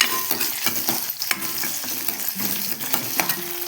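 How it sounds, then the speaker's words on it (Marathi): Long-sliced onion is stirred and sautéed in a pan, with a steady close sizzle broken by repeated clinking, scraping strokes of the spoon, and no talking. "लांब चिरलेला हा कांदा त्याच्यात टाकलेला आहे। तो पण आपण छान परतून घेतोय।"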